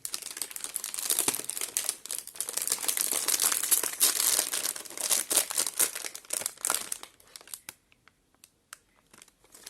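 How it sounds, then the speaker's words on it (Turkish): A plastic wrapper around a chocolate-coated sandwich cake is torn open and crinkled up close, giving a dense, continuous crackle for about seven seconds before it thins out into a few scattered rustles. "Paketi açalım ve bakalım."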